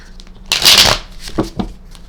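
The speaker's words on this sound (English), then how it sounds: "Let's give another good shuffle" Tarot cards shuffled by hand, a single quick riffling burst lasting under a second, close and crisp, followed by a few softer card taps in a quiet room.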